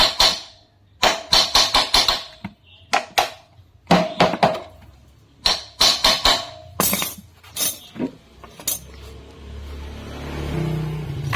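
Hammer strikes on metal while a Honda Astrea Grand motorcycle is taken apart, sharp ringing clanks in quick bursts of two to four blows with short pauses, close and loud, fading into a scraping rustle at the end.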